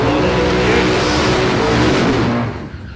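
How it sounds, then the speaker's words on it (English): A ute powered by a 565 cubic inch big block Chev revs hard at a street drag event, a loud, close, rough engine roar that holds for over two seconds, then drops away sharply. "Big block Chev powered ute that likes to get the wheels in the air."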